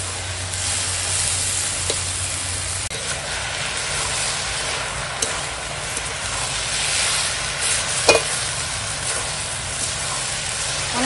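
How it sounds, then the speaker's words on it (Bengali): Kulekhara greens and rohu fish sautéing in a pan, a steady close sizzle and hiss of frying that runs the whole time with brief stirring clinks and scrapes. "সমস্ত কিছু কষানো হচ্ছে"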